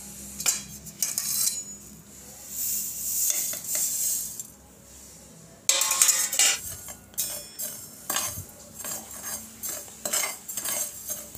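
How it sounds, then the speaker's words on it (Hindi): Cumin and carom seeds are dry-roasted on a tawa griddle over a low flame. A metal spatula stirs and scrapes them in irregular, close clinks and rattles, with no talking. "जो जीरा और अजवाइन है हमारी, इसे हमें तवे पे धीमी आग पर भूनना है"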